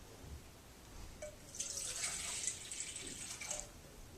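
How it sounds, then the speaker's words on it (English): Water pours into a bowl of cake batter with eggs and cocoa, a soft, fairly quiet trickling splash lasting about two seconds, preceded and followed by faint clinks. "1 cup of water"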